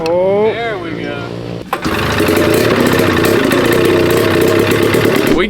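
A 140 hp Yamaha Banshee drag ATV engine fires up and runs loud and steady right up close, with a brief sputter before it catches; a voice is heard over the start.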